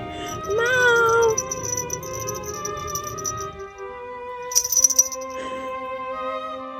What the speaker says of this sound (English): this super cute cat had actually followed us down towards the harbour